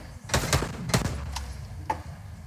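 Enemy gunfire in Fortnite, a few sharp shots at irregular intervals, fairly loud against quiet game background.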